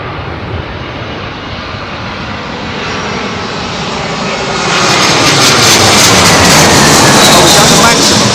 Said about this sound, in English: As soon as that aircraft is on the ground, there's so much energy.